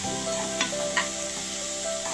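Chopped onion fries in coconut oil in a pan, with a steady soft sizzle and a few light stirring knocks, no talking.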